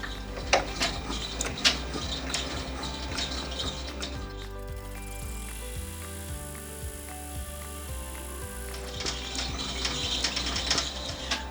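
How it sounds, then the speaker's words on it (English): An embroidery machine stitches out a placement line for a mug rug, a steady rapid mechanical patter with rhythmic needle thumps and whirring, close and moderately quiet, with no one speaking. "we're going to stitch out the placement stitch for the center of the mug rug"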